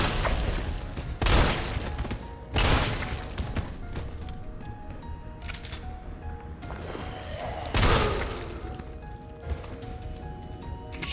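Gunshots from the video game Resident Evil 3 ring out as several sharp, loud blasts spaced a few seconds apart over a background of game music and ambience.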